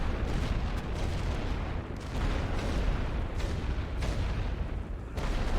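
Continuous heavy artillery barrage in The Great War: Western Front, a World War I strategy game, rumbling loud and dense throughout with repeated deep booms layered over one another and no pauses.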